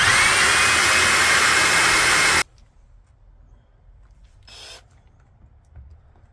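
Power drill driving a countersinking bit into a van conversion panel, a loud steady whine for about two and a half seconds that stops abruptly, followed by quiet room sound and a brief faint hiss.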